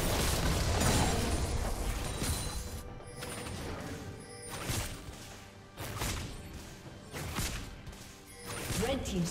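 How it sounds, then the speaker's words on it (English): A turret being destroyed in League of Legends: crashing, crumbling impacts and explosive bursts repeating over busy game noise, with the loudness rising and falling across the clip. "Red team's turret has been destroyed."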